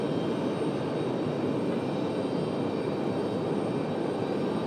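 An Aer Lingus XLR jet from Dublin arriving at Raleigh-Durham International Airport gives a steady, loud broadband roar that holds evenly for the whole stretch, with no voices over it.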